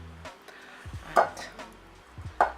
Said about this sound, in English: To avoid the flour flying around here, I'm just gonna start with mixing it gently with a spatula